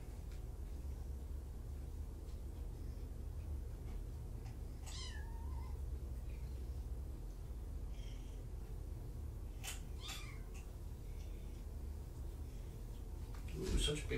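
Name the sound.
kittens purring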